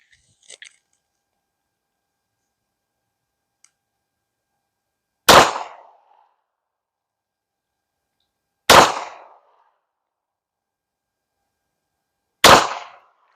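Three loud, sharp shots from a Canik Rival pistol firing Hornady Critical Defense ammunition outdoors, spaced about three and a half seconds apart, each a crisp crack with a short decaying echo, against near silence apart from faint clicks of handling.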